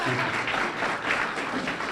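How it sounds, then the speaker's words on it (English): Audience at a downtown awards event gives a dense burst of applause, many hands clapping steadily for two seconds, fairly close and uninterrupted. "you can give her a little applause"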